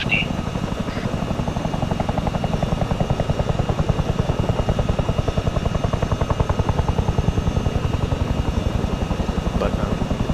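Helicopter lifting off in the military game Arma 3, a loud, steady rotor thump with a rapid even chop that continues throughout, close and dominant, with faint radio-style voices in the background.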